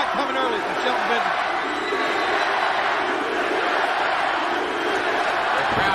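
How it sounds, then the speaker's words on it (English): A large wrestling arena crowd at a televised RAW event chants and roars continuously, a dense, loud wall of voices with no pauses. "Crowd chanting, you tap out at Triple H."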